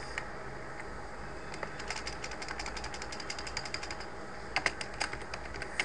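Rapid clicking of keys on a computer keyboard, steady and fairly quiet, with a few louder bursts of keystrokes over a soft background hiss.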